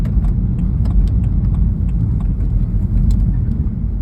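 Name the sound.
car driving home from the gym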